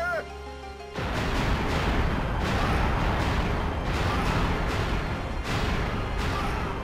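Repeated heavy booms of cannon fire in Anno 1602, arriving every second or so over dense rumbling battle noise, with a voice speaking briefly.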